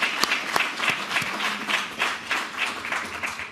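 An audience at a press conference on a new Ontario hospital project claps in a short burst of uneven, fairly close handclaps.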